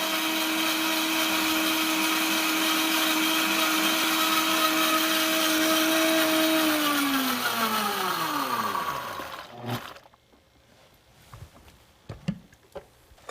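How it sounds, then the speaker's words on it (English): A Vitamix Professional Series 750 blender chopping ginger runs at a loud, steady high whine for several seconds, then winds down with a falling pitch and stops, followed by faint clicks and handling noises. "Blend this for 20 seconds or until you see that the ginger is finally chopped."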